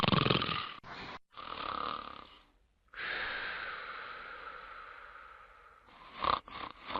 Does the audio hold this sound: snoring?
yes